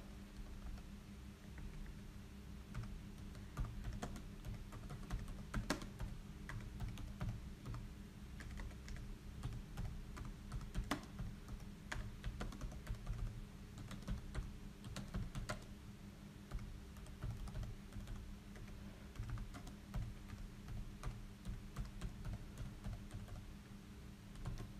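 A search question typed on a computer keyboard makes a continuous patter of quick, light key clicks, close but soft, with occasional louder taps and a low hum underneath.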